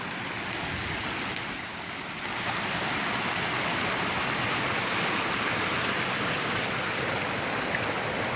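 A river flows in a continuous, fairly loud rush of water, steady and unbroken from start to finish, with no voices.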